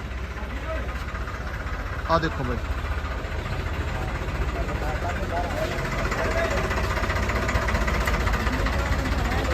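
A Farmtrac 60 tractor engine idles at a tractor market in Malout, Punjab, giving a steady, close rumble throughout while someone speaks briefly.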